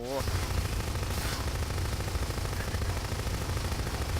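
Sustained automatic gunfire from the sci-fi shooter Section 8, a loud continuous rattling stream of rapid shots with a deep rumbling low end, unbroken for several seconds.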